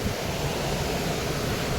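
Heavy water pouring through a partly opened dam at Chhechhedi Ghat, a steady broadband roar with no breaks, loud and close, with no voices over it.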